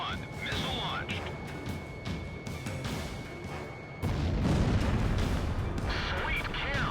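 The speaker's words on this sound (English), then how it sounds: "Locked on. Golem 1, missile launched." Missile launch and explosions in the flight combat video game Ace Combat Zero, a dense, loud roar of blasts with a sharp jump in level midway, heard beneath a man's speech.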